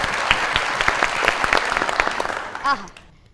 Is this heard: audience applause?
yes